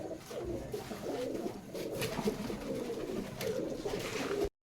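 Large pigeons at a home loft coo in soft, repeated low throaty calls, close by and steady, with a brief rustle of wings; no one speaks.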